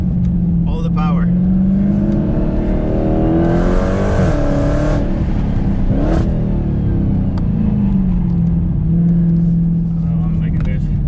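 A Dodge Hellcat accelerates through a turn, its engine note rising and falling in a loud, close roar with a brief high surge midway, while a person talks over it.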